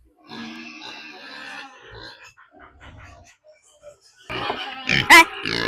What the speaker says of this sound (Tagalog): Medyo malaki-laki na yung baboy ni Ayos.